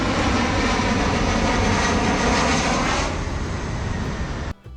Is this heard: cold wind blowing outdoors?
no